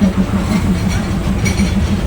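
A train rolling past at a station in Thailand, a steady loud low rumble with faint rhythmic wheel clatter, continuous throughout.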